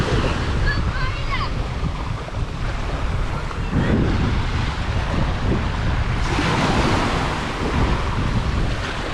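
Surf washes steadily against a littered shore after a storm amid strong wind buffeting the microphone, with a faint voice briefly audible in the background.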